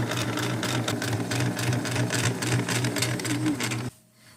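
A sewing machine stitching a 3/8-inch seam on a Victorian corset panel runs in a steady rapid chatter for about four seconds, close and loud, then stops abruptly.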